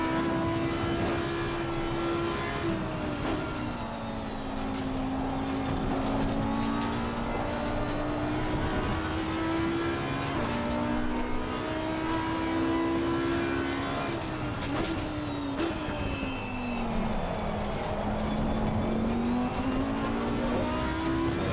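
A race car in the Assetto Corsa Competizione video game laps Oulton Park, its engine droning loud and steady throughout and its pitch rising and falling with gear changes and corners, with no voices over it.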